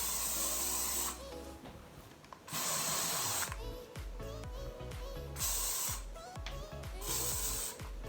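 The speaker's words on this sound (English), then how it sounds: "use the Mega Strong Junior Hairspray from Schwarzkopf, and I'm just going to like spray it all over" Several long hissing bursts of Schwarzkopf hairspray from an aerosol can, each lasting about a second, with quieter handling noises in the pauses between them.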